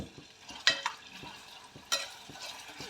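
Sliced onions sautéed over high flame in hot oil give off a soft, steady sizzle, broken by a couple of sharp scraping stirs. No voice can be heard.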